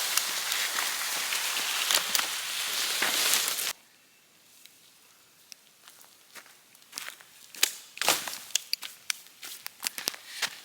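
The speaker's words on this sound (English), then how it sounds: "Here comes that rain." Rain falls outdoors, starting as a dense, loud rush of noise that cuts out abruptly, then continues as scattered close drips and taps, with footsteps mixed in.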